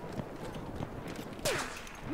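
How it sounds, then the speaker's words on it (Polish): Scattered Battlefield 1 Conquest gunfire, moderately loud shots and a sharper burst late on, over a busy battlefield din without speech. "Tam jakiś we mnie koleś strzela."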